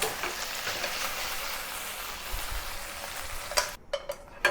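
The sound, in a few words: stir-frying beef in oil in a pan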